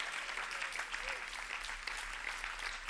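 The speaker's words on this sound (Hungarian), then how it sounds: "Nagy-nagy tapsot adjunk Jézus Krisztusnak" A church congregation applauds during a sermon, an even spread of clapping at moderate loudness, steady throughout with a faint low hum underneath and no clear speech.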